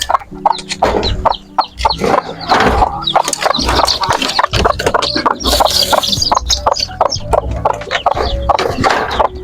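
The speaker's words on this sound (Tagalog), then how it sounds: "Pakain ng mga alagang manok." Several hens cluck and squawk continuously at close range during morning feeding, a busy overlapping chorus with no talking.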